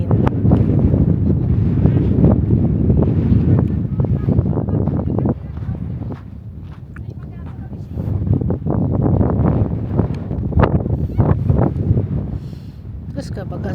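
Strong gusty wind on Fuerteventura buffeting the microphone in rumbling bursts, with faint voices and occasional knocks underneath.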